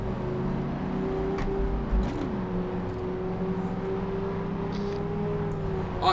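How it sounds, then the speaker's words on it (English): Car engine drone in The Crew racing game, a steady mid-pitched hum with a slight pitch bend near the start, continuous and fairly loud, with faint incidental clicks on top. "the car sound effects sound better on the opposite person's car than your car"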